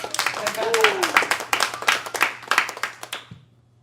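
An audience claps in a steady burst at an outdoor campaign rally for a city council candidate, with a voice speaking over the applause before it fades out near the end.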